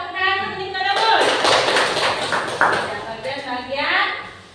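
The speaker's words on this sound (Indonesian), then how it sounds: "Iya, tepuk tangan untuk Nikodemus" A classroom of students claps for a classmate, a dense burst of applause lasting a few seconds, with children's voices calling out over it.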